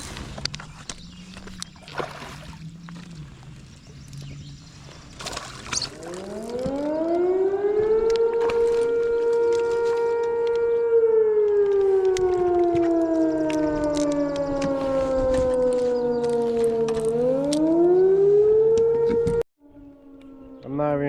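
A wailing civil defense siren sounds across a lake while bass fishing from a kayak, rising slowly, holding a long steady tone, dipping and climbing again before cutting off, fairly distant, with faint talk and water noise early on.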